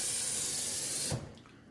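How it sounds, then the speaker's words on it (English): A tap runs hot, soapy water into a kitchen sink above a garbage disposal, giving a loud, steady hiss of water that cuts off abruptly after about a second, leaving a faint drip and quiet. "you're going to run a sink full of sudsy water"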